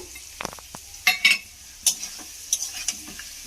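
Spiced fish curry with cauliflower sizzles in a pan while a spoon stirs it, giving short scraping strokes and bursts of hissing, close and fairly quiet, with no talk.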